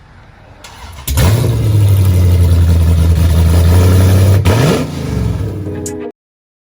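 A 2015 Dodge Charger with long tube headers and catless mid pipes: the engine fires up, holds a loud, steady rev for about three seconds, eases down, then cuts off abruptly.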